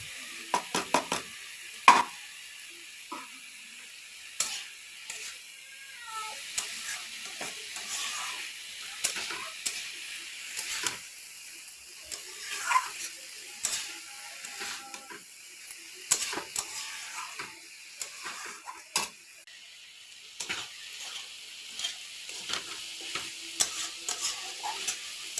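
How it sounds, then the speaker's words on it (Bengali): Fish roe fries in hot oil, a continuous bright sizzle with scattered sharp pops and crackles throughout, close and alone without any talk. "তেল দিলাম, দিয়ে মাছের ডিমটা দিয়ে দিলাম। ভাজা হয়ে গেল।"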